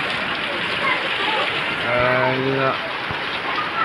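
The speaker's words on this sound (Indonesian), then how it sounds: "hujannya masih turun juga ya" Steady, dense rain pours down during a flood in Lolo Gedang, a constant hiss of drops hitting surfaces and water. Someone speaks briefly over it, and a low tonal hum rises partway through.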